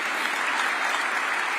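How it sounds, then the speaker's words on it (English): Steady, dense applause from an award ceremony audience, sustained and even across the whole stretch with no voices breaking through. "you can clap."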